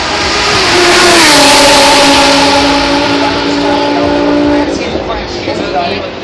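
Ferrari 458 GT3 race car with a dual overhead cam V8 of about 500 horsepower, a loud, close, high-pitched engine wail that holds steady, then drops in pitch and fades, overlaid by a commentator's voice.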